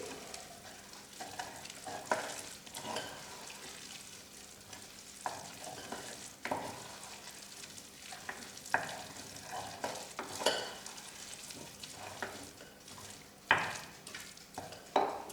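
Crozets gratin in the Savoyard style is stirred in a pan, a quiet scraping and shuffling with soft frying sizzle underneath and irregular utensil knocks, no talking.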